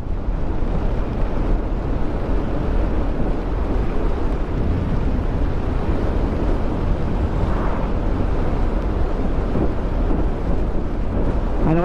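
Steady heavy rain roaring without a break, a dense, loud wash of noise with a low rumble underneath.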